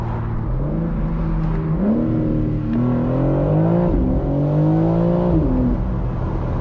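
A BMW M4 Competition Convertible's engine rumbles and revs up and down in steady, rising and falling sweeps, heard loud from inside the car with no one speaking.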